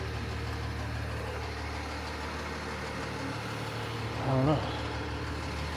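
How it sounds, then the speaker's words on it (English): Fire truck engines idle outdoors in a steady low rumble that carries through the whole stretch, and a person briefly speaks over it near the end. "look at the fire trucks out here doing something"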